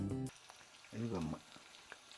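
Curry leaves and asafoetida drop into hot oil for a Telugu dry dal curry tempering, giving a soft sizzle and crackle with short bursts of woman's speech at the start and middle.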